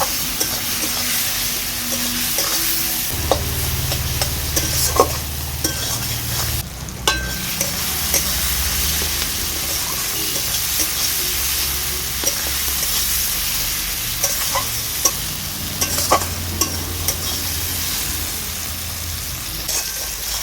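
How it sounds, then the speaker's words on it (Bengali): Spice paste with cumin powder and a little water being stir-fried for chana masala, a sustained close sizzle and hiss with repeated spatula scrapes, taps and occasional clanks against the pan over a long stretch. "এবার মশলাগুলোকে আমি ভালো করে কষিয়ে নেবো"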